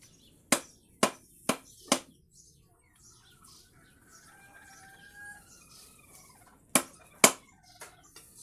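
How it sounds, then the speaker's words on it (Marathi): A knife or scissors chops through the fins of a murrel fish, giving four sharp, evenly spaced cuts, a quiet pause with faint bird chirps, then two more crisp cuts close by. "तर आता पटापट पंख कापून घेतो"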